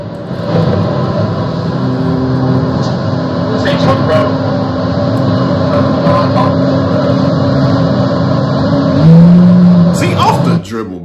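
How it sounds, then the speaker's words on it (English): A McLaren supercar engine revs and accelerates in the rain, a loud sustained roar with rising tones and a sharp surge near the end. Voices talk over it. "We hear it, bro. We hear the engine. We know you got a McLaren."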